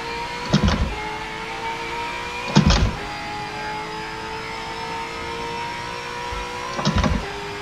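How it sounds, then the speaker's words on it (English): V8 Supercar engine in the racing game Forza 7, a high, steady whine climbing slowly in fifth gear, broken by three short, sharp bursts where it bounces off the rev limiter. "We're hitting the limiter in fifth gear when we're going up the mountain straight."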